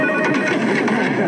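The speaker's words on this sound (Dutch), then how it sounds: "Soms gaat een telefoon." A telephone rings in a comedy police scene, a continuous dense ringing that fills the short moment at a loud, even level with no voices over it.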